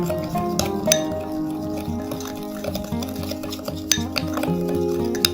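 Sea salt and dark coffee mixed in a bowl, with quick scraping and clinking utensil strokes against the bowl under a low background hum, close and fairly quiet.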